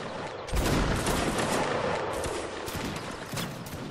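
A ragged volley of musket fire crackles in Mount & Blade: Napoleonic Wars, many overlapping shots in a dense burst with scattered reports trailing off.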